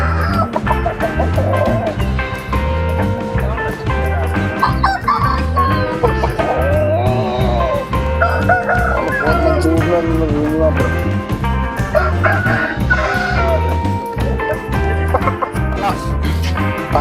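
Roosters cluck repeatedly and close by, over a constant rhythmic background thump and muffled voices.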